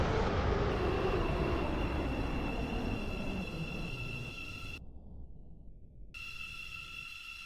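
Steady rumble and rattle of a train rolling along the rails in the game Stepford County Railway, with sustained high whining tones from the carriage; continuous and close.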